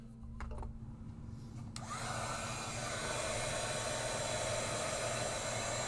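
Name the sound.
heat tool heating embossing powder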